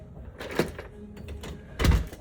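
A house door leading out to a garage is opened, giving a couple of soft thuds and a brief rattling slide, close by in a quiet room.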